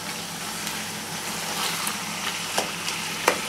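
Chopped tomatoes stirred into onions frying in a pan for bhuna gosht, a steady broad sizzle with occasional soft scrapes of the spoon, close and continuous.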